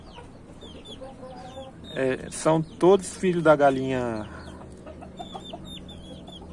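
Chickens and young chicks, including a speckled carijó hen, cluck and peep in a backyard flock, with bursts of louder clucking in the middle beneath someone talking.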